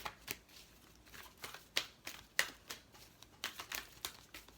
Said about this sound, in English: I'm going to pick some angel cards here just to cap it all off.